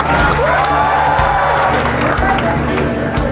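Students at a Kota meet-up cheer and clap as a crowd, a steady wash of whoops and applause over loud background chatter, with voices talking throughout.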